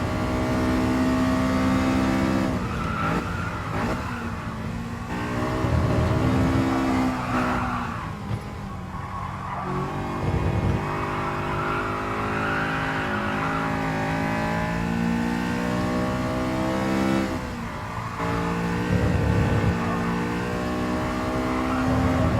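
A race car engine in the GT Sport video game revs loudly and continuously, rising and falling in pitch with gear changes, with occasional tire squeal and no speech over it.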